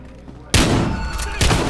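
Gunfire in the video game Battlefield Hardline: a sudden loud burst of rapid shots erupts after a quiet moment, with a second burst close behind.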